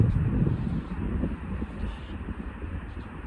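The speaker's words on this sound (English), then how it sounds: "this wind won't blow me away" Strong wind buffeting a microphone in the Sierra Nevada mountains, a continuous low roaring rumble that surges and eases, close and loud, with no voices.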